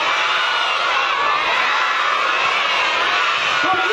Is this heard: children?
yes